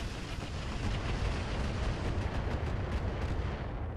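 Weapon fire from a mech in the video game RogueTech, rendered as a dense, continuous barrage of booming, rumbling blasts that stays loud throughout, with no talk over it.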